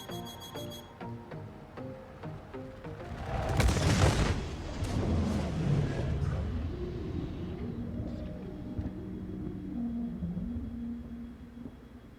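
Size 5 torpedoes striking a Valkyrie ship in Star Citizen, a loud booming blast with a rumbling, fading tail, followed by lingering engine hum and shifting tonal whine.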